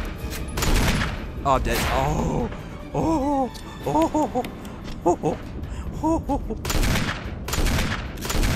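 Gunshots boom in the survival horror game Resident Evil HD, repeated heavy blasts spaced across the clip, while a player groans and talks briefly over the action.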